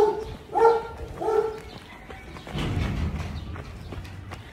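A few dog barks ring out early, a couple of sharp yaps in quick succession, followed by scuffling, rustling movement and background noise.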